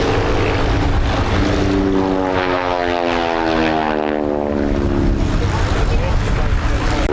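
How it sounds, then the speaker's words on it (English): A propeller plane, a Yale, drones past overhead at an airshow, its engine pitch sliding downward as it goes by, with a rough rasping buzz from supersonic propeller tips over a steady roar. "So right at the tip of the propeller going supersonic, and that's what that rasp noise is"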